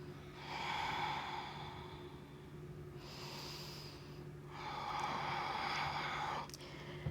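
Slow yogic ocean breath during a rocket yoga session: soft, hissing, throat-constricted breathing in long drawn strokes, about three breaths in a row, close and fairly quiet with no talking.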